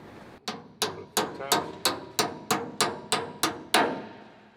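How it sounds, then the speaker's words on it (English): Ten sharp metallic hammer taps tapping a U-clip blind nut onto a steel truck frame while installing a Gen II C10 fuel tank, struck in a steady, evenly spaced rhythm, close and clear with no talking. "It actually does help to tap it with a hammer."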